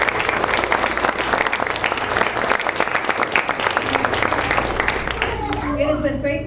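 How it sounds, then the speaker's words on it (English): A school event audience of principals, teachers and students applauds, dense rapid clapping filling the room steadily, with a voice starting to speak near the end as it fades. "A round of applause."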